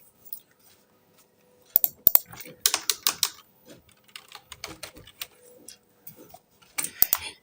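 Computer keyboard typing in an Excel session, quiet crisp key clicks arriving in irregular short bursts with brief pauses between, close up in an otherwise silent room.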